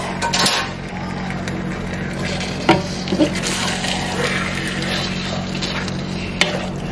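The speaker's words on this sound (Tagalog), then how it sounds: "Chicken stir fry? Chicken stir fry. It is. It's a stir fry." Oyster chicken stir fry sizzling and being stirred in a pan in a home kitchen, a steady close hiss of frying with occasional clinks and scrapes of utensil against the pan.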